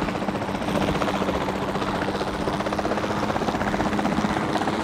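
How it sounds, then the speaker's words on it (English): Helicopter flown in the video game Jurassic World Evolution 2, a loud, continuous rotor chop with a rapid even pulse and a steady engine drone, close and unbroken throughout, no talking. "I wasn't expecting to be driving a helicopter"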